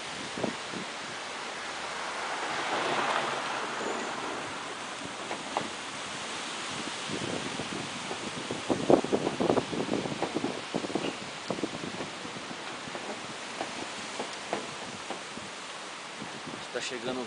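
Gusty storm wind roars and rustles, building into stronger bursts with some crackling and buffeting noise, close to the microphone, in the city of Sertãozinho, São Paulo, Brazil.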